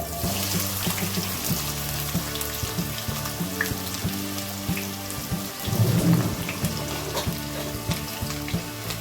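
Two large thinly sliced onions frying in hot oil with mustard seeds and cumin, a loud continuous crackling sizzle with rhythmic clatter and a brief surge in the middle, without talk.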